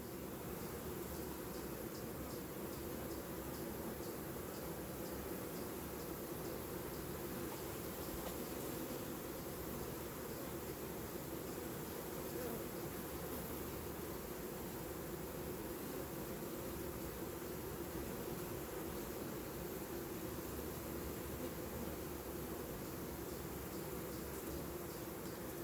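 A captured swarm of bees buzzes inside its hive while building comb, producing a dense, steady, continuous hum that stays even throughout with no voices.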